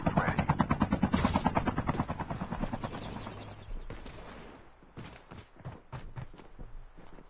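Rhythmic rotor thumping of a helicopter in the video game Call of Duty Mobile, loud at first then fading, followed by scattered sharp clicks and thuds.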